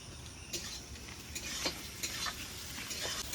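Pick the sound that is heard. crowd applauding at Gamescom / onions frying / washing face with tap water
onions frying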